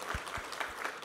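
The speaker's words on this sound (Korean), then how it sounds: "우리 하나님께 감사와 영광의 박수 올려드리겠습니다" Congregation applause during a Sunday church worship service, a short burst of steady clapping with a few sharper claps standing out, close and full.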